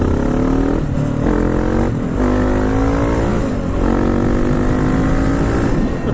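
Honda Africa Twin motorcycle engine revving hard during a wheelie attempt, a loud, close, continuous roar that rises and falls in pitch through several throttle blips, heard alone with no talking.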